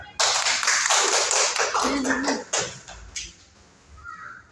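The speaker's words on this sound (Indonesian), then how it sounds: "kita berikan tepuk tangan" A classroom of students applauds a presenting group in a lesson on pre-Islamic Mecca, with a loud burst of clapping at the start that thins out and fades over a few seconds, alone without talk.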